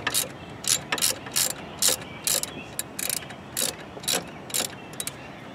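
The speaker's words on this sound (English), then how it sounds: "Let's hit a point where you can loosen it with a ratchet." A hand ratchet loosens a brake caliper bolt on a Saturn S-Series car, giving about a dozen sharp, evenly spaced clicking bursts in a steady back-and-forth rhythm, close and alone.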